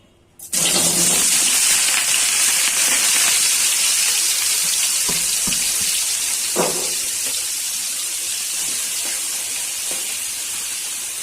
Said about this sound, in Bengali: এখন গরম তেলে কপি আর আলুটা ভেজে নিচ্ছি।